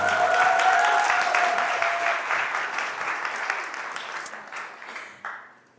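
An audience bursts into loud applause after a song, dense clapping from many hands that stays strong at first, then thins out and trails off abruptly at the end.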